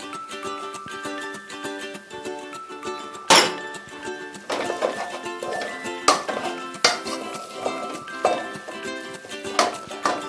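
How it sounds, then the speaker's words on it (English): Zucchini goes into a pan of nearly dry cooking eggs: metal utensils clink and scrape against the pan in repeated sharp bursts, with one louder clatter early on, amid a steady busy kitchen clatter and no talking. "First, I'm gonna add in the zucchini because I don't want them to be soggy."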